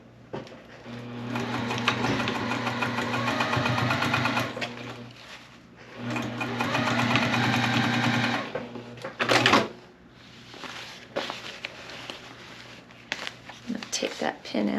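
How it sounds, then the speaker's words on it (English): A sewing machine stitches across a soft vinyl zipper pouch in two close, steady bursts of rapid mechanical whirring and clatter, then stops amid brief handling noises and clicks. "we're just going to sew right across here"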